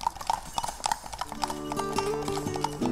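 Horse hooves clip-clop steadily on a horseback riding tour on Usedom Island, close rhythmic knocks with a brief whinny partway through and some tonal background sound.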